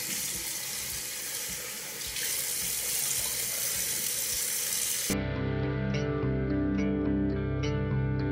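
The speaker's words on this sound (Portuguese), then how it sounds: "Agora eu vou lavar meu rosto, vou umedecer ele e vou aplicar o esfoliante." Tap water runs steadily into a bathroom sink while someone wets her face for washing, a close, continuous splashing that cuts off abruptly about five seconds in as music takes over.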